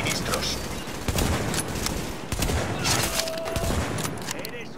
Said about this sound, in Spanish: Disparan a los suministros